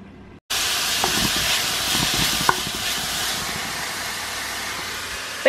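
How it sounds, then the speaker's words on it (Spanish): Eggs a la mexicana with tomato fry in a pan, a loud steady sizzle that starts abruptly and keeps going, with a few light clicks from stirring. "Voy a hacer unos huevitos a la mexicana"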